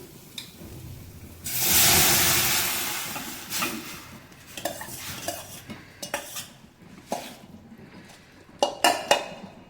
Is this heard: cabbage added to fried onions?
yes